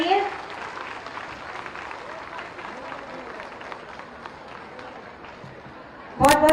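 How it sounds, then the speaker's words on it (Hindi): A crowd welcomes the Chief Minister at a government launch of a hot cooked meal scheme for anganwadi centres, with a broad, moderate wash of clapping, a voice over it at the start and a loud burst of sound at the end. "जोरदार तालियां मंच तक प्रेषित करें"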